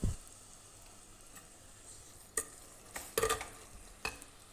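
Avial vegetables and grated coconut are stirred in a pan, a quiet background sizzle broken by a few sharp scraping and clattering strokes of the spoon, no voices.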